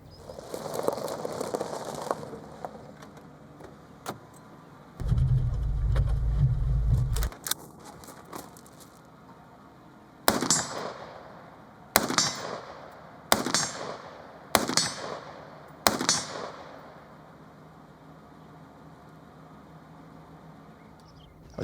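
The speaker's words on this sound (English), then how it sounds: "The cop is going to unlock the gun, get out, charge the gun, and engage a target." Police patrol rifle being unlocked, carried from the car, charged and fired at a target: early handling clatter, then five sharp, loud gunshots spaced about two seconds apart, each ringing out alone.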